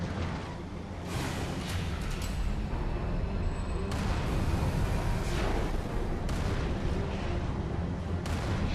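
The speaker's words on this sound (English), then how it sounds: "I'm just indiscriminately shooting for no reason." Dense, continuous gunfire and booming blasts from the video game Halo 3: ODST on a coastal highway, a loud unbroken roar of shots and explosions with no talking.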